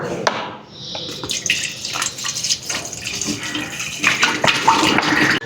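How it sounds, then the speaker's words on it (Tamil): Fresh cow's milk poured over a temple deity idol, a splashing, running liquid stream with small drips and knocks, close and moderately loud, no talk. "நம்ம ஊற்றின பால் வந்து அங்கே பாருங்க சாமி மேலேயே விழுகுது"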